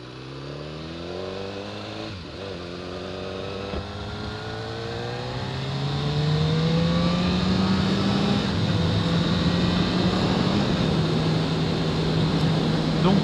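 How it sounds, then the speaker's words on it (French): A motorcycle engine idles and pulls at low revs, a steady near drone whose pitch climbs and then holds, growing louder partway through with no talk over it. "par rapport à la CB1000R, ça a l'air beaucoup plus doux, agréable dans les bas régimes"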